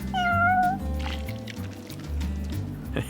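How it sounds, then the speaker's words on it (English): A cat meows in Final Fantasy XV while eating food delivered to it, a few clear meows early on over soft game music and squishy eating noises, close and fairly loud. "Let's go and deliver the food to my cat."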